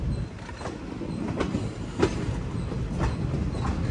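The Chemmozhi Express rolls into Mayiladuthurai station, its wheels beating a steady clickety-clack over rail joints with periodic sharper knocks, loud and close, and no voices.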